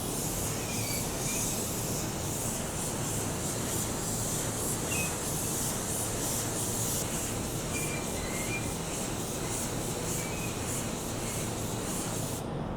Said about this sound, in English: now we're gonna spray it and rotate it at the same time